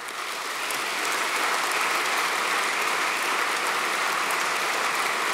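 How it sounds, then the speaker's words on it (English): A large Royal Engineers ceremony audience gives steady, sustained applause, the clapping swelling in over the first second and then holding as a thick, continuous wash. "take a final bow, and accept the applause"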